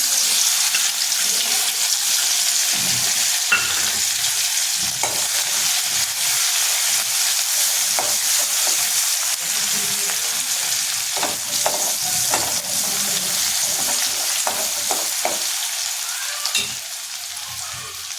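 Crushed garlic and green chili frying in hot oil give a steady, close sizzle that runs the whole time, with small crackles and pops scattered through it and no voices.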